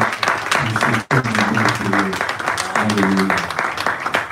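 A church congregation at a Sunday service applauds and cheers, a loud, continuous wash of clapping broken by one brief gap, with raised voices and singing-like calls running over it.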